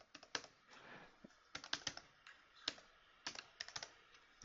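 A phone number is typed on a computer keyboard, with quiet, close keystrokes tapping in quick irregular bursts and short pauses between them.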